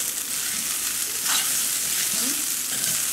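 Garlic rice being tossed and fried in a pan gives a steady broadband sizzle with a few soft scraping stirs, close and continuous, with no voices.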